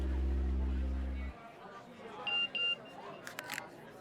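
A phone's short message notification beeps twice in quick succession, followed by a couple of faint clicks, after a loud low hum cuts out; a quiet room tone sits underneath and nobody speaks.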